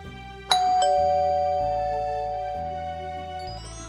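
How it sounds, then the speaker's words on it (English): A house doorbell chimes once with a clear ding-dong, its bright tones ringing out and slowly decaying, then a second faint press begins near the end. "I kept pressing the doorbell at Iraha's house."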